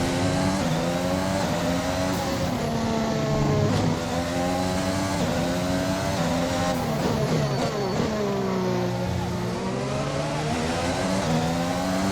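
Inside the F1 2021 video game, a Formula 1 car engine screams at high pitch during a race in Melbourne, repeatedly climbing through revs and dropping on gear changes in a loud, continuous drone.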